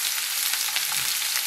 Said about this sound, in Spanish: Ya le voy a poner los vegetales aquí al aceite, ya está caliente